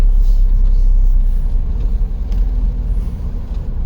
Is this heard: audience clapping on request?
no